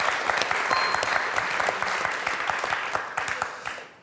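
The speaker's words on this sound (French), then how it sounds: "Applaudissements quand même pour Corinne." Studio audience on a French quiz show breaks into applause, a close, dense burst of clapping that holds steady for a few seconds before fading out.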